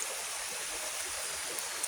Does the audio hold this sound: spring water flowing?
yes